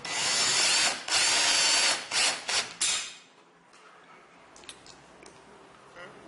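A power drill driving screws to fix a metal plate onto wood, with several loud whining bursts of varying length close by, followed by quieter clicks and light handling.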